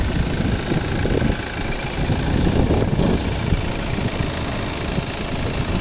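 A Volvo V60 2.0 D4 diesel engine idles steadily with a low rumbling clatter and constant vibration, close by, with no talking.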